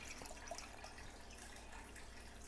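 Milk is poured into a cup while making coffee with a Breville Barista Express, giving a soft, continuous liquid trickle. It is faint and close, with no talking.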